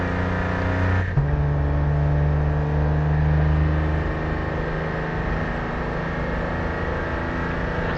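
A race car engine at full throttle exiting a corner at Suzuka, a loud, sustained high-rev drone after a brief shift-like dip near the start, holding steady and close with no talking.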